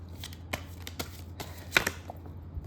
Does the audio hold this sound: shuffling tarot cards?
yes